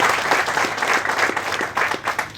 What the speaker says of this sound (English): let's give a round of applause for our administration, our governor, our Secretary Andrew Peck.